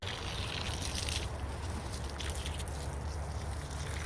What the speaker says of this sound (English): I like to give these trees a few minutes of water just pouring out of the hose